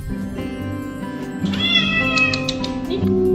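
A cat meows loudly and close, drawn-out and whiny, over a steady musical backing in a light-hearted streaming segment.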